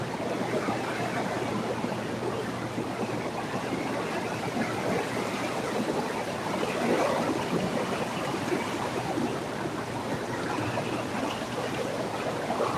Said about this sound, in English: I'm sure you can hear how much water is just everywhere up here